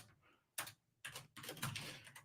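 Computer keyboard typing during coding, a few short bursts of quiet key clatter separated by brief pauses, close and soft.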